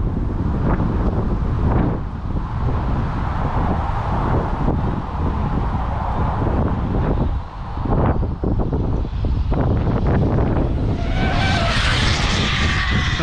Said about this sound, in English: Let that wind die down a bit